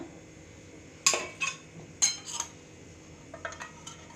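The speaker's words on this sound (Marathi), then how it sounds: "आता आपण इथे भाजी सगळं मिक्स करूया।" Spoon stirring bhaji vegetables in a metal pan, giving a few close, sharp clinks and scrapes against the pan spread over a few seconds, with a quiet kitchen background.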